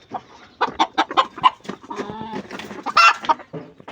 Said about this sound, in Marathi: असे आहेत आपले उलट्या पिसाचे दोन कोंबडे